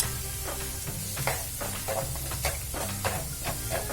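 Besan bhurji, a gram-flour scramble seasoned with turmeric, cumin, red chilli powder and garam masala, stirred in a hot pan: steady close sizzling with rhythmic scraping strokes of a spoon every half second or so, no talking.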